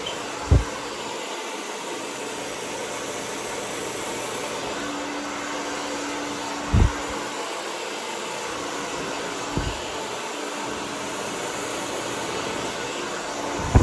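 Hair dryer blowing on its cold setting while finishing coarse curly hair, a steady close whooshing drone with a few brief clicks and bumps as the dryer is moved.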